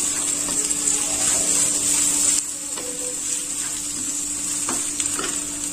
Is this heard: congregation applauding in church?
no